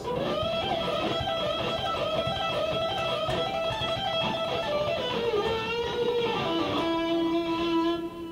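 An electric guitar plays a sustained melodic lick, with a unison bend rising together and quick pull-offs on the first string sliding down into a held final tone.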